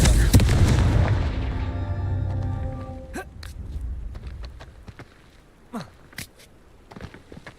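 A Confringo spell blasts in Hogwarts Legacy: a heavy booming explosion opens loud and decays over a few seconds, followed by scattered sharp cracks and thuds, with no voices.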